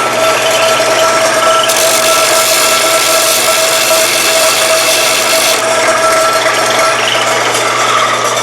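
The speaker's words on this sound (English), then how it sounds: "we're going to take it over to the grinder, and we're going to grind these off." A grinder works the edges of wrought iron stock for a lawn ornament, a loud steady high-pitched grinding whine that swells brighter as the wheel bites the metal, then eases back, continuous with no talk.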